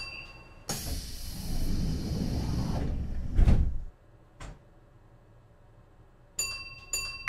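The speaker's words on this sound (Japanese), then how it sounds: "扉が閉まります。 ご注意ください。" Train doors on a Japanese railway slide shut with a long rushing hiss, then a firm thud as they seal. Brief clicks and a short electronic chime follow in an otherwise quiet cab.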